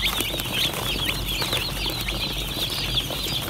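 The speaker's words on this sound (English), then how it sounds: "500 cheeping chicks." Hundreds of broiler chicks cheep continuously in a dense, high chorus of overlapping peeps, close and fairly loud, with a low rumble beneath and no talking.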